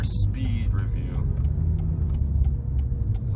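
A 2003 Mercedes-Benz S55 AMG cruises along a highway with a steady, low engine and road rumble filling the cabin; a few faint clicks and a brief higher whine sound early on.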